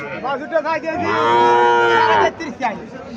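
A single loud, drawn-out moo from a Sahiwal bull calf close by at a cattle market in Chandimura, Comilla, with brief murmurs of people before and after.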